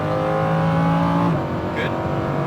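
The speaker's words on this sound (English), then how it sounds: "And accelerate. More. All the way up. And that's fourth gear." A Lamborghini Huracan accelerating hard through the gears, its engine note climbing loudly from inside the cabin, then a quick shift into fourth and a steady, throaty drone.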